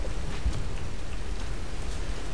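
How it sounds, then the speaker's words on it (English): Heavy storm rain in the Tomb Raider video game pours down steadily and loudly, a dense continuous hiss with no voices over it. "All this crazy rain going like sideways because of these insane"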